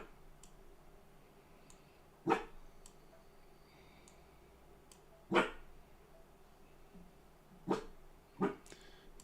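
A pet dog named Maxie gives four short, soft woofs from somewhere off across the room. The woofs come at uneven intervals over a faint background hum.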